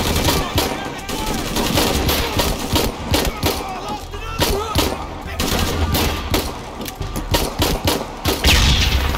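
Pistol gunfire in Shadow of the Tomb Raider rings out as a loud string of sharp shots, some in quick succession, over a busy combat soundscape with rumbling background noise.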